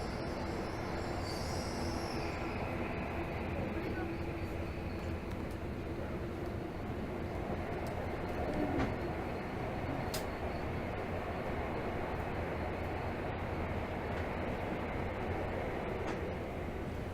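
A Tokyo Metro Hibiya Line 13000 series subway train runs at speed, giving a steady, loud rumble with wheel noise and faint squeal throughout, heard from inside the car with no talking.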